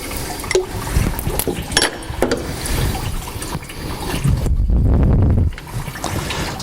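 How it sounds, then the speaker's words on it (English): Water splashing and trickling out of a removed water pump on a Land Rover Discovery 300TDI engine, pouring briefly louder near the end, with faint clanks of metal parts nearby. "it'll start to leak water out the bottom"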